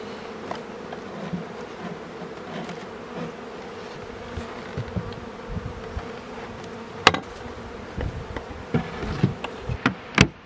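Honeybees buzz continuously around the hive of a swarm, a dense close hum with scattered clicks and knocks of hive handling.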